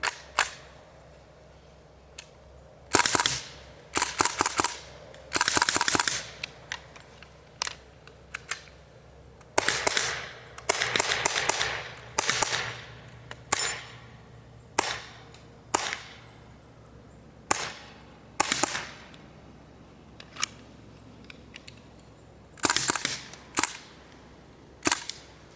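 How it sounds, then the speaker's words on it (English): A series of rifle gunshots fired down range outdoors, sharp loud cracks in irregular bursts and singles across the whole stretch, some in quick rapid clusters, with quiet gaps between and no talking. "I'm going to put a few rounds down range"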